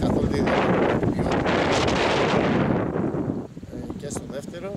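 Strong wind gusts buffet the microphone on an amateur football pitch, a loud rushing roar that eases after a few seconds as faint voices come through.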